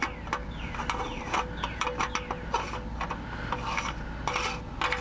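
The oil filter of a Toyota 2GR-FE engine is screwed on by hand, giving rapid rasping, rubbing clicks and scrapes in an irregular ratchet-like rhythm, close and continuous over a low hum, with no talking.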